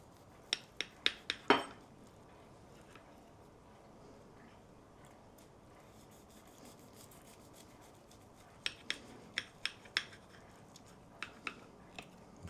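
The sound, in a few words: knife cutting a slice of Italian meatloaf and plating it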